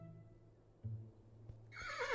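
A horse in a video game gives a short, bright whinny near the end, following a few low snorts and faint hoof sounds, fairly quiet and close.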